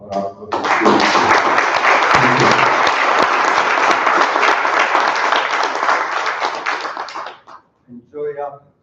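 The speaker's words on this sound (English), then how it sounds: "I kindly request the last afternoon applause for our participation" Loud, sustained applause from a conference plenary session audience in Athens rises quickly, holds for several seconds, then fades out, followed by a brief voice.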